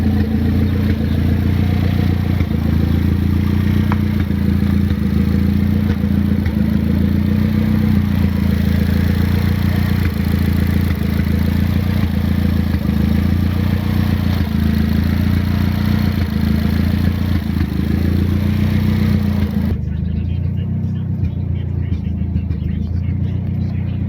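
A turbocharged Honda Civic D16Z6 engine on E85 fuel runs steadily with a deep, throbbing idle rumble, loud and close, continuous until it cuts off near the end.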